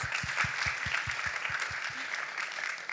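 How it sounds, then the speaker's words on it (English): An education festival audience applauds panel members, a wash of clapping hands with a steady low rhythmic thumping beneath it, continuing evenly at moderate loudness without speech. "Let's give our amazing panel members a round of applause."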